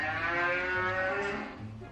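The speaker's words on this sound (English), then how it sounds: "Cow." A single cow moos in one long, drawn-out call that fills the whole moment, loud and close with no other sounds around it.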